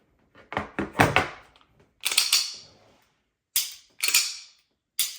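A Glock pistol fitted with a Timney Alpha trigger gives a series of sharp mechanical clicks and snaps, about five separate bursts with short gaps between them, crisp and close against silence.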